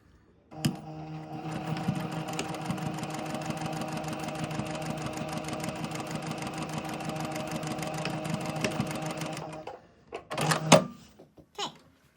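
A sewing machine tacks down box pleats within the seam allowance. Its rapid, even stitching whirr runs steadily for about nine seconds, close and clear, then stops, followed by a few brief handling clicks and rustles.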